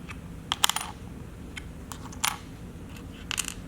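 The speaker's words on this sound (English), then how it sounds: "placing our washers" Small metal washers and screws being handled and set in place while fitting rear mud flaps on a 2025+ Can-Am Maverick R, a scattering of light, sharp clinks and taps over quiet background.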